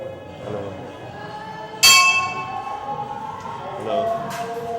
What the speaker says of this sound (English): The bell is supposed to wake up the god and let him know that I'm here.